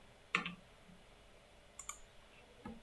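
A few faint, quiet clicks of a computer mouse in a quiet room, one near the start and a couple of light taps later, isolated and close.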